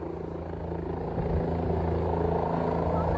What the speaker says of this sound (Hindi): देखिए, हेलीकॉप्टर से लोगों को एयरलिफ्ट किया जा रहा है।